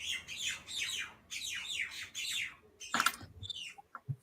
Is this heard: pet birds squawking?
yes